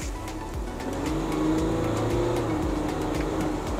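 The V6 engine of a 2023 Ford Everest Platinum seven-seat SUV revs, a deep, steady drone that rises in pitch and swells slightly, heard close and alone with no talking.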